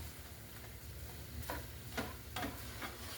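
Onions sizzling in a pan alongside smoked sausage, a soft steady fry hiss with a few light scraping stirs, quiet and close.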